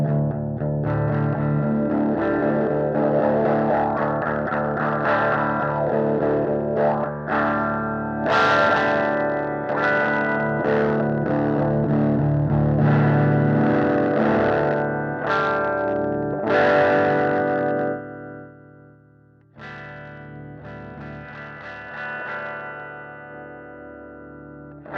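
Electric guitar through a Peavey Centurion Mark III amp with a heavy, medium-bandwidth EQ boost, heard as thick distorted chords and sustained notes, loud and close, ringing on briefly after a pause near the end without talking.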